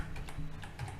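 Keys on a computer keyboard tapped in a quick run, a shortcut and then a short search word, with close, light clicks at an uneven pace and nothing else in the background.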